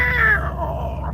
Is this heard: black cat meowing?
yes